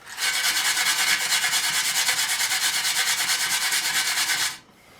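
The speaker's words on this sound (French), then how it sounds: "je vais quand même foutre un coup de brosse" A brush scrubs a Novi ignition coil on a drift trike build in fast, even strokes, a loud continuous scratchy rasp that stops abruptly near the end.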